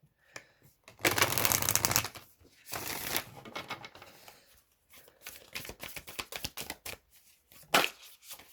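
Tarot cards are riffled and bridged several times up close, long fluttering bursts followed by softer patting and tapping as the deck is squared.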